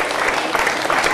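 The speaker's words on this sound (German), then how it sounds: "Auch die Dame bekommt natürlich auch einen Applaus" Audience applause at a charity auction, a dense, steady patter of many hands clapping close by for just over a second, with a faint voice woven in.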